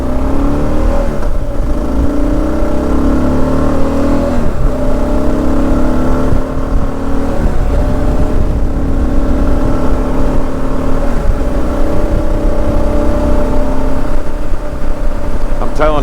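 Kawasaki KLR 650 motorcycle with a needle kit installed, engine pulling loud and steady as it accelerates through the gears, rising and falling revs with brief dips at each shift, heard close up throughout.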